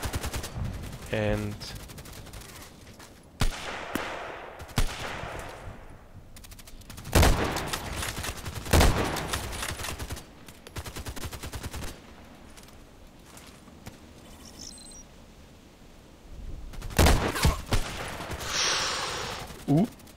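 M40A6 sniper rifle fire in a video game: several sharp, loud reports spaced seconds apart, each with a short decaying tail, over quieter game ambience while someone talks between shots.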